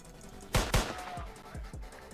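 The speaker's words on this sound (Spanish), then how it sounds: "Disparos de advertencia." Warning gunshots in the Roblox video game: two sharp, quick shots close together, followed by a few softer thumping reports, all fairly faint.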